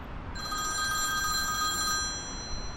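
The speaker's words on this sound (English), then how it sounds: "That's my phone." A telephone bell rings once in a sustained electronic trill lasting about a second and a half, fairly close, over a faint background hum.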